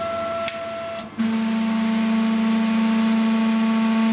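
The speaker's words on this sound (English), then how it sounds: "that's my table Z zeroing, and it's the vibration of the table that you can hear as it creeps down" A laser cutter's table hums steadily and vibrates as its Z axis zeroes and creeps downward, a constant loud drone after a brief click and shift in pitch.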